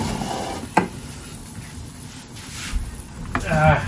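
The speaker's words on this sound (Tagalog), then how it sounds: "Kumukulo na daw, kumukulo na." A pot of sinigang soup with yellow snapper bubbles and sizzles steadily up close, with a clink of a utensil and brief voices near the end.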